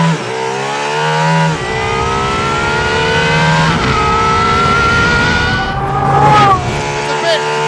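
Aston Martin Valkyrie engine roaring loudly from inside the cabin while driving, with rising and falling revs, strong harmonic whine and heavy vibration.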